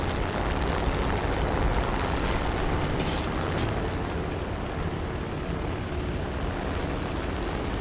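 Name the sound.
airplane flying past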